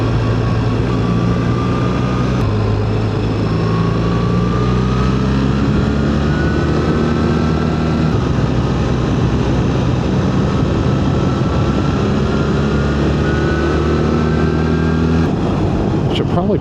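BMW R 1300 GS Adventure motorcycle in third gear engine braking down a steep curving hill, a steady loud drone with slowly shifting pitch, heavy wind noise and occasional speech over it.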